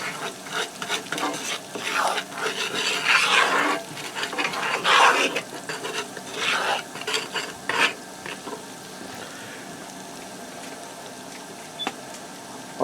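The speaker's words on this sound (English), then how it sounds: "I'll give that a stir to get my spice stirred around in the butter." A spoon stirs salt and pepper into melted butter in a pan, giving a steady scraping swirl with soft sizzling. It fades toward the end and leaves a faint hum.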